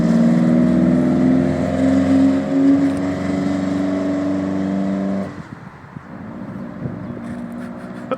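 A Toyota MR2 Mk3 roadster runs after a Walbro 255LPH fuel pump is fitted, its engine note humming loud and steady at first, then dropping away to a quieter, rougher idle with faint clicks and rustles.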